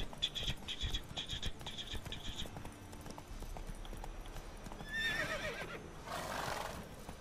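A horse in the Witcher 3 video game clip-clops along, then lets out a loud, drawn-out neigh near the end, with fainter game sounds in the background.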